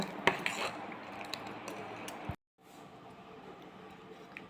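A spoon scrapes and clinks against a bowl while wheat dosa batter is stirred, a steady close rhythmic mixing that stops for a moment and then resumes more softly.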